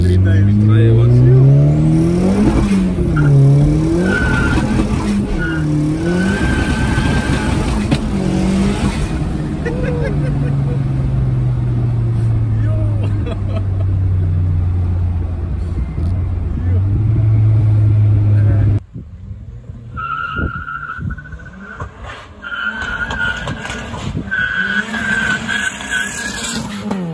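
A big-turbo 1.8 20V Mk1 on 15-inch street tires, with coilovers and VR6 brakes, revs hard and accelerates through several rising and falling gear sweeps, loud and close, then drops to a quieter cabin with talking.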